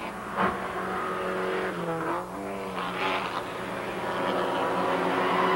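Porsche 944 race cars from the 1986 Canadian Rothmans series crest a hill at about 180 km/h, engines droning loudly with a sharp pass early on and a steady roar of the pack following close behind.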